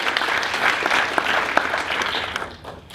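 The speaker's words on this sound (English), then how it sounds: "we're going to give a huge round of applause to all the students who pitched tonight" A crowd applauding steadily for a few seconds for students who pitched at a university startup competition, dense clapping that tapers off toward the end.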